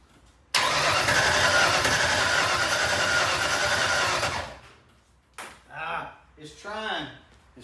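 An engine cranks steadily at first start-up, a dense, loud churning of about four seconds that fails to catch, then cuts off before someone talks close by.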